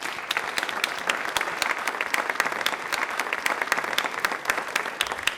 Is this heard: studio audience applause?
yes